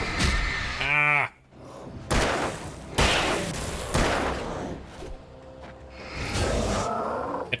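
Gunfire in the survival horror game Alan Wake Remastered: several loud, sharp gun blasts spread over a few seconds, each followed by a brief rumbling tail, along with other combat thuds.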